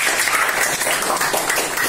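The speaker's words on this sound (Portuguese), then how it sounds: "vamos aplaudir a nossa colega" Applause from a school class in Maringá, Brazil, cheering a classmate's win, a short burst of dense, close clapping from many children that stays steady for its full length without speech.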